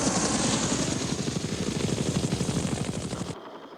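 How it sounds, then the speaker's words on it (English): A UH-1 Huey military helicopter flies close by, its rotor blades thudding in a fast, steady chop over a loud engine roar that cuts off abruptly near the end. "For the Army, the basic infantry transport helicopter was the UH-1 Huey."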